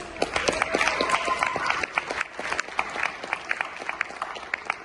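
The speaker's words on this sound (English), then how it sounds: "I'll pause for applause." Applause from students at a school assembly, a crowd of sharp, individual claps that is dense at first and thins into scattered claps near the end.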